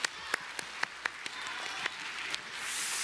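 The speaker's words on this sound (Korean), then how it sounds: "다시 한번 박수해 주세요." A church congregation at a Sunday service applauds newly appointed volunteers, a handful of distinct, sharp claps standing out over a soft, distant patter of clapping that swells slightly toward the end.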